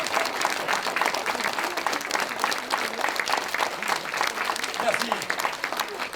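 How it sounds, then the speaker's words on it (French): Audience applause at a cabaret show in Lambersart near Lille, a dense steady round of clapping from a full room, with voices mixed in beneath it. "un bon public aurait applaudi maintenant"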